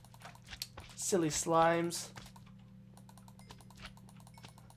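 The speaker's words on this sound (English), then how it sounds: "Ignore the obnoxious clicking of my mouse. It's insanely loud." A loud computer mouse clicks repeatedly during a Minecraft modpack play session. The sharp, close clicks come in quick bursts under a man's speech, with a faint steady hum behind them.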